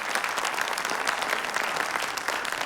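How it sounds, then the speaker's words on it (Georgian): Sustained audience applause at a televised children's talent show, a full, even wash of clapping from a crowd that holds steady without letting up. "აპლოდისმენტები."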